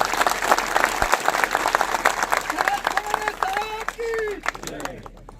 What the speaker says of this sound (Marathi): जोरदार एकदा टाळ्या